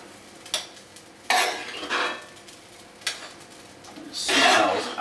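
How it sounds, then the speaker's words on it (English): Butterbean cassoulet for slow-cooked lamb shanks is spooned from a pan onto a plate, with several close metallic scrapes, clinks and wet sloppy dollops in irregular bursts. "we're just going to spoon some of the cassoulet into the middle"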